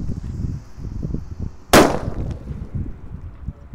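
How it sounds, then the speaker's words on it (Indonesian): A paper-wrapped firecracker (petir buntelan kertas) goes off with a single sharp, loud bang at close range, its crack trailing into a short echo over low outdoor rumble. "Sudah menyala petir buntelan kertas."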